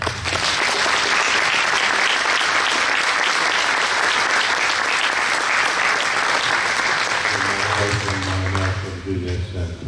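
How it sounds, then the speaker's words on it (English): Audience applause at a 40 & 8 Tomb of the Unknown Soldier ritual: loud, dense clapping that continues steadily for nearly ten seconds, then thins as a low voice begins to speak at the end. "I want you to give him a big applause."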